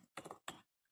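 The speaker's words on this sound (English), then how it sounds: "I will type password." A few quick keystrokes on a computer keyboard as a password is typed, short, faint taps in two small bursts.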